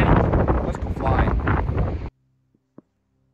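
Gusty wind buffets a microphone outdoors on a windy day before a drone flight, a loud steady rumble for about two seconds that cuts off abruptly, followed by near silence with a couple of faint ticks.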